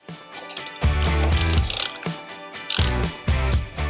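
A ratchet wrench tightens the foot peg bolts on a Harley-Davidson Sportster, giving loud, close bursts of rapid metallic clicking in several strokes with short pauses between them.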